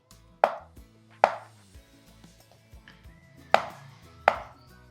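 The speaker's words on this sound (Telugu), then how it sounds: "ఈ సైజు పర్ఫెక్ట్ ఫ్రెంచ్ ఫ్రైస్ లాగా కట్ చేసుకోవాలి" A knife cuts paneer into even, french-fry-sized sticks on a board, giving four sharp, close chops spaced irregularly with softer taps between them, and no voices.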